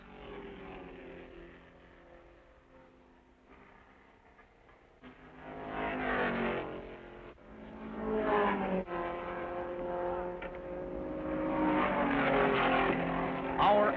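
Production Corvette race cars roar around the Sebring circuit during the 1957 race, a steady, rising engine drone running throughout beneath continuous narration.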